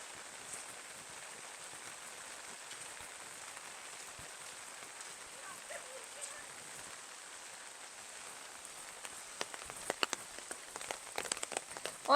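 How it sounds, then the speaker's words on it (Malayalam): Steady monsoon rain falls continuously outdoors in Kerala, a soft even hiss of drops on surfaces, with a few louder close drips and taps near the end, and no talk. "മഴ 2-3 ദിവസമായിട്ട് ഇടയ്ക്കിടയ്ക്ക് ഇങ്ങനെ മഴ പെയ്തുകൊണ്ടിരിക്കുകയാണല്ലോ."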